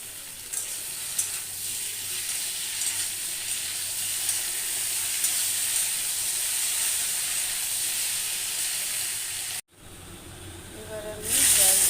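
Ginger paste added to a pan of fried papaya and potato gives a loud continuous hiss and sizzle that cuts off abruptly near the end before a brief louder burst.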